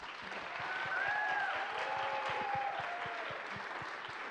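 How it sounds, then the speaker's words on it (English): A crowd at a World Teacher Day celebration applauds the teachers with a sustained, even round of clapping, moderately loud throughout, with a few faint raised voices or cheers drifting above it. "I'd like to acknowledge their contributions today with a rousing round of applause"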